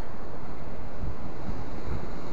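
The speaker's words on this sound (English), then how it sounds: "For some reason, the wind has picked up" Wind buffets the microphone on a rocky beach at Sheffield during fishing, a constant loud low rumble and hiss with a few deeper gusts, no voices.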